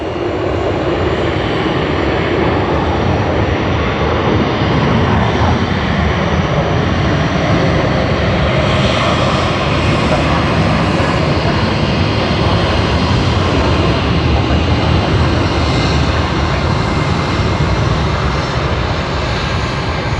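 A QantasLink aircraft at Sydney Airport produces a loud, sustained engine roar that holds steady and close throughout, with a broad rumbling texture and no voices over it.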